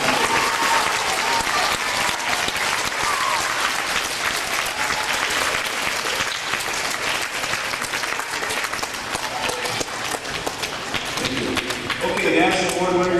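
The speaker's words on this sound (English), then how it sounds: "Would you give a round of applause to our national award?" A crowd at an awards night applauds national award winners with loud, dense clapping that runs on for several seconds, with some voices and cheers mixed in before it thins out near the end.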